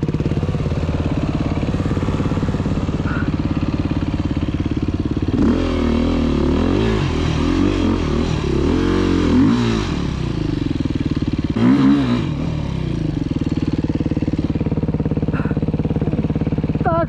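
A scooter engine runs close by, droning steadily and then revving up in two surges with some rattling before settling back to a rough idle.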